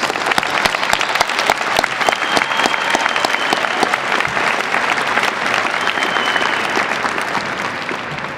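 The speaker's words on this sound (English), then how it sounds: "Please join me in a round of applause for the MSISPM graduates." A large audience at a college graduation ceremony applauds steadily and loudly, sustained clapping filling the whole stretch without pause.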